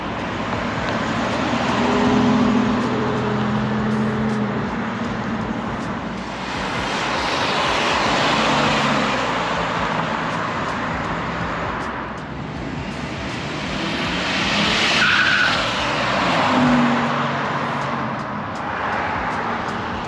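A 1987 Buick Grand National with 6,300 original miles drives past, its engine rising to a loud roar as it nears, fading, then surging past again, heard from outdoors at the roadside.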